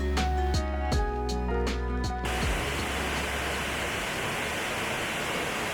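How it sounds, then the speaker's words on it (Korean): Jaun waterfall in Geumwonsan recreation forest roars as a steady, broad rush of falling water. Tonal music plays over it for the first two seconds, then only the continuous waterfall noise remains. "여기 폭포 엄청난데요?"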